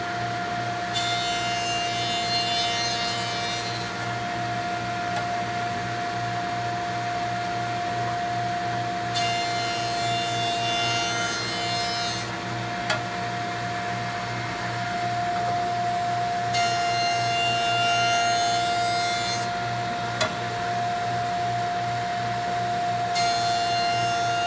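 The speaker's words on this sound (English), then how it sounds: "We'll do that using the joiner." Jointer running steadily with a constant motor hum and whine while the edge of a wooden board is planed in several passes, each pass bringing a louder rushing cut that fades between runs.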